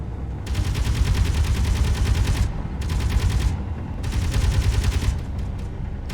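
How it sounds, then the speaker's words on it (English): Spaceship guns firing in the video game Space Engineers, heard as three sustained bursts of rapid automatic fire, loud and close, with brief gaps between them. "Wait, no, keep firing, keep firing. The thing still has guns on."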